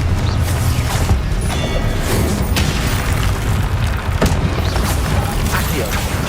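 A Confringo blasting spell from a Harry Potter video game, loud booming explosions and crashing impacts in a dense, continuous game soundscape with a few sharp bursts.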